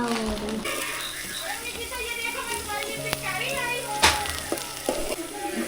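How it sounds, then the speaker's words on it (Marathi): Tempering of garlic and onion sizzling in hot oil, a steady close frying crackle under children's chatter and adult voices talking throughout. "हे बघा मंडळी इथे फोडणी घातलंय."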